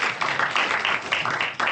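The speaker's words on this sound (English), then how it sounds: "Clap hands for Bazalwana," Hands clapping in a church-style gathering at an entrepreneurship day event, a steady run of fairly loud claps in quick succession with no talking over them.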